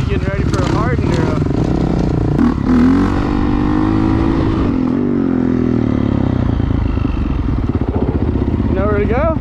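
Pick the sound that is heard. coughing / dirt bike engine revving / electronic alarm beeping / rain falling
dirt bike engine revving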